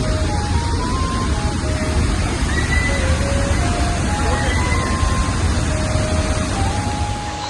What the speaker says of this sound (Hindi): इतना पानी था ना वाटरफॉल का, यहाँ तक पानी आ रहा था